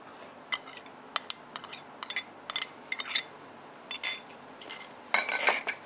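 A cup of finely chopped cucumber goes into a salad bowl, with a series of light clinks and taps of a utensil against the dish, ending in a brief clattering scrape.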